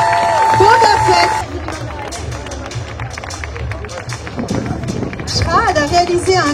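An audience at a fantasy festival applauding Mandalorian and Boba Fett cosplayers, scattered clapping and crowd noise mixed with a presenter talking over a loudspeaker.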